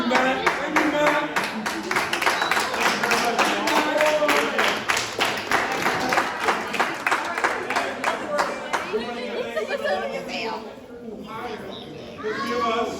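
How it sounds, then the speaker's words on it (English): An audience claps for student performers after a show, dense rhythmic clapping building strongly from the start before thinning out, with voices talking over the applause near the end. "We give them a round of applause, please."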